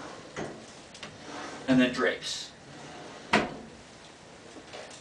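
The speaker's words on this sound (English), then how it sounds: "Look at the drawers in the side of the bed." Drawers in the side of a clinical exam bed slide and bump open and shut, with a few sharp knocks and rattles, while a person speaks briefly between them.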